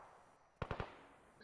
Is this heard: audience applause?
no